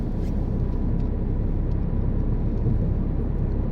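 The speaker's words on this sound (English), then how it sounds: "I'm getting fifth gear now." Steady low road rumble comes from inside a car cruising at about 40 mph in fifth gear, a smooth, even drone that stays constant throughout with no talking.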